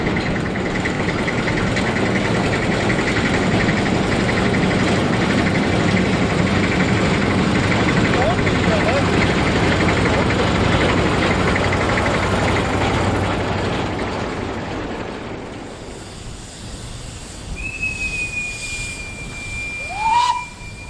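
A 1959 Dima field railway locomotive sets off with a train of tipper wagons; a loud, rumbling idle and engine drone fills the scene, fades, then two high whistle toots sound near the end.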